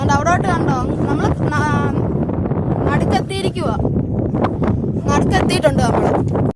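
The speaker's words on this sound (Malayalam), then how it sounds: "നല്ല കാറ്റാ ഇതിനകത്ത്." Strong wind buffets the microphone aboard a boat crossing a backwater lake, a loud continuous rumble beneath people talking throughout.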